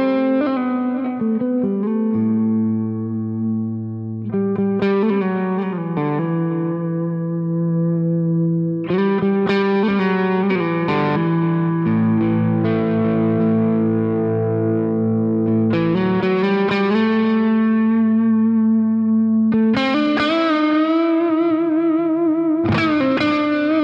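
Nova Go Sonic electric guitar on its neck humbucker pickup, playing clean sustained chords and melodic notes with effects and echo, steady and alone with no talking.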